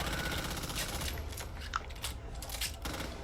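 Burst-fire Glock pistol shots in Back 4 Blood crack out in quick clustered volleys, sharp and close, with brief gaps between bursts over a background of game ambience.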